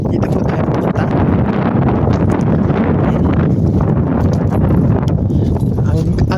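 Wind gusts steadily across an open hillside farm lot among rustling leaves, a loud rumbling buffet on the microphone, with a voice talking over it.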